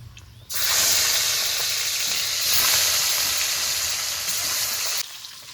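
Fish pieces hit hot oil with a sudden loud, bright sizzle that holds steady for several seconds, then drops off sharply near the end, close up with no talking.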